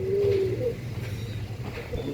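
Rocket bloodline Punjabi pigeons give a low, drawn-out coo at close range, followed by softer repeated murmurs over a steady low background hum.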